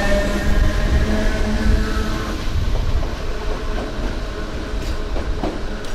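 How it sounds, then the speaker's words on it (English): DART commuter electric train passing through a Dublin station on the Howth line, a steady loud rumble of wheels and carriages with rhythmic clickety-clack over the rail joints and faint wheel squeal. "That train's just come from Howth."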